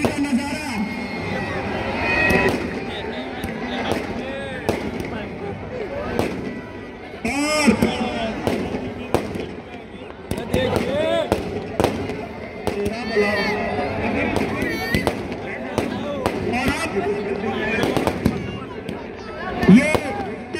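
Fireworks burst at a Dussehra festival Ravana burning in Rohtak, Haryana, sharp bangs and crackles scattered throughout over a constant roar of crowd babble and cheering.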